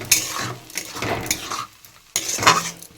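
Masala with ginger garlic paste frying in a pan for a mushroom fish curry, a loud close sizzle broken by scraping stirs of a spoon against the pan, with a brief lull before the sizzling picks up again.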